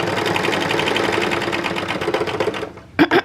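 A serger sewing machine stitches a seam finish in a fast, steady whirring run for over two seconds, then stops and gives a few short bursts.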